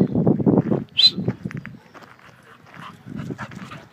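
Dogs playing and scuffling outdoors on a spring day, with rough growly bursts and snuffling, a sharp yelp-like cry, then looser tussling noises close to the microphone.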